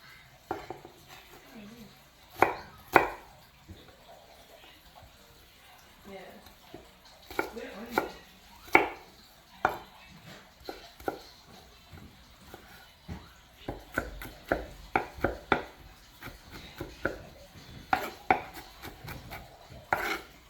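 A knife chops a purple onion or shallot on a cutting board in a home kitchen while pico de gallo is being made, giving irregular sharp cuts in loose bursts, close and fairly clear, with no talk.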